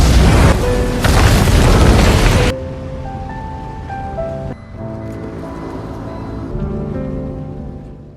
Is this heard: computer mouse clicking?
no